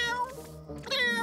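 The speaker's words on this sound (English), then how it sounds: "What's with the yowling?" A cartoon cat yowls twice, close and clear, with drawn-out wavering meows and a short gap between them.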